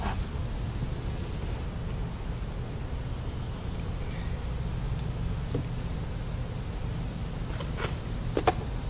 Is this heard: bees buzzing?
yes